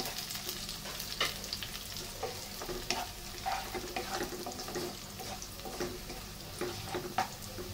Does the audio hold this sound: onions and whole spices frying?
yes